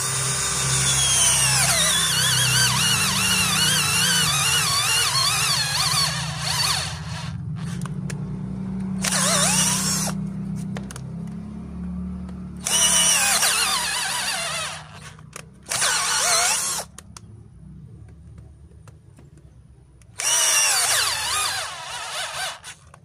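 An Asteel 21V cordless drill drives a 22 mm auger bit into wood, giving a loud, close whine with rising and falling pitch. Several bursts of drilling are cut by short pauses.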